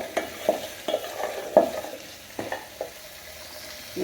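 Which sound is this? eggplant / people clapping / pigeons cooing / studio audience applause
eggplant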